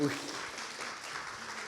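A church youth congregation applauds, a moderate, steady patter of clapping from a room of people, fairly soft and brief.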